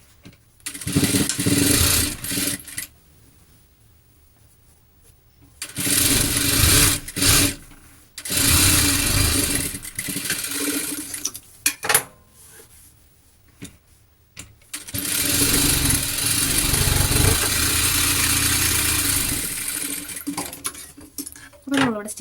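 A sewing machine stitches the side seams of a top, running in several loud bursts of steady whirring separated by pauses.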